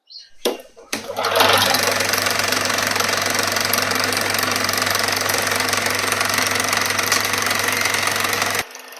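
A vintage 16 mm film projector starts after a short click and settles into a loud, steady mechanical whirr with a fast rhythmic clatter, running continuously up close before cutting off near the end.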